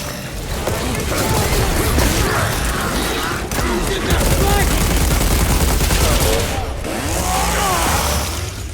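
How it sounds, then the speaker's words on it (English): Dense, loud, continuous bolt gun fire in Warhammer 40,000: Space Marine 2, with heavy mechanical clatter amid a Tyranid horde battle. "I get a couple of seconds to rake them with bolt gun fire"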